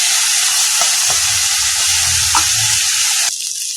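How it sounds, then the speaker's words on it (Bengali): Prawns fry in hot oil in a wok, a loud, continuous sizzle with a few soft stirring knocks, briefly quieter near the end. Nobody speaks. "মাছটা ভালোভাবে ভাজা হোক।"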